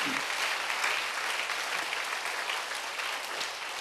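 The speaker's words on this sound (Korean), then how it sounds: "자, 박수로 주님께 영광 돌립니다" A church congregation applauds during a Sunday worship service, a dense, steady wash of many hands clapping that holds at an even level throughout.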